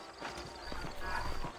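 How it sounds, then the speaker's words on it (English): Horse hooves clip-clopping at a steady walking pace in Red Dead Redemption, close and fairly quiet, with a voice talking over them. "Epa, pera que é o cavalo"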